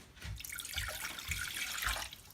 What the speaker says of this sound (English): This is cold water right from the tap.